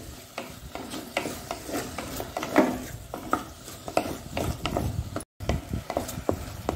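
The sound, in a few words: stirring prawn bimbuli gravy in a pan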